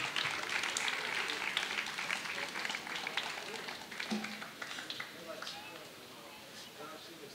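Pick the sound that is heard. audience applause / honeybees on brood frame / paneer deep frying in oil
audience applause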